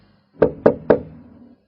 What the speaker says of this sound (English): I went along the corridor to her room and knocked.